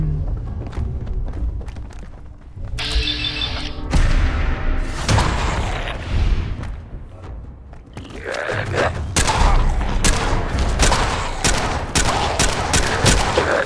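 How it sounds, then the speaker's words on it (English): Rapid gunfire from a heavy-recoil gun in the game Fallout 4, several loud close bursts of shots with booming thuds and pauses between volleys. "this recoil on this gun is insane"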